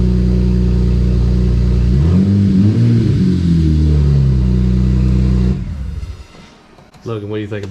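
A 2007 BMW 335xi six-cylinder engine running with no exhaust fitted, a loud raw rumble that revs up and falls back before cutting out, then sputtering again with voices over it.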